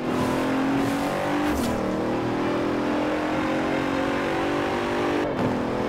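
Bentley in Forza Horizon 4 driving hard, a close steady engine drone with pitch shifts as gears change and revs rise, carrying on continuously for several seconds.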